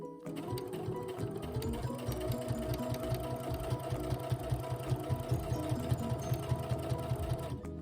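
A sewing machine stitches back and forth across the joints of a bag handle, running slowly in a steady rapid needle rhythm that rises slightly in pitch after a moment, close and clear with no talk.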